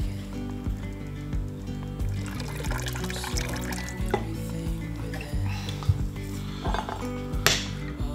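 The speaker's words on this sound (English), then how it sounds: "I'm going to put a drop more brine in that." Extra brine poured into a jar of fermented hot sauce mixture with garlic granules, peppercorns, onion and chilli, a steady liquid trickle and splashing alongside clinking of jar or utensils, moderately close with no talk.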